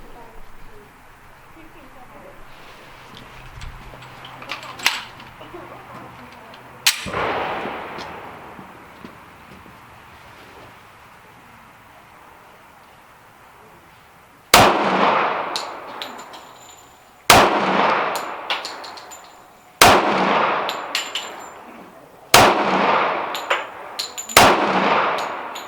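Pistol shots from a used .45 ACP handgun on a shooting range, five sharp loud reports at irregular intervals with ringing decay, after a quieter stretch with a couple of fainter bangs.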